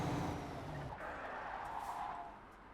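A truck in Euro Truck Simulator 2 brakes hard with a brief tire skid and hissing noise that fades out over a couple of seconds, with engine rumble underneath.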